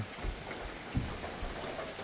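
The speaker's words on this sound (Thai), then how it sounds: "ฝนตกเนาะ" Rain falls outdoors as a soft, even hiss that runs unbroken and fairly faint, with one brief dull knock partway through and no voices.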